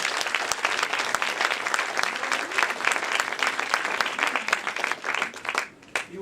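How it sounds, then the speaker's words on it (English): Warm audience applause at an animation film festival lecture as the presenters come up, a steady crowd of clapping hands that thins out and drops away near the end. "let's give them a round of applause"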